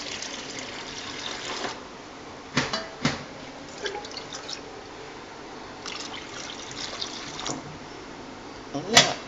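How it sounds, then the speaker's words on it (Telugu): Water is poured into a bowl for soaking idli rava, heard as a soft, close trickle with scattered small splashes and drips. A sharper pour comes near the end. "ఇది గిన్నెలో తీస్తున్న వాటర్"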